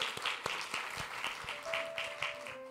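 A church congregation at a Christmas service claps to welcome a member's testimony: sparse, fairly quiet applause with distinct individual claps at an uneven rhythm, along with a faint tonal hum in the room.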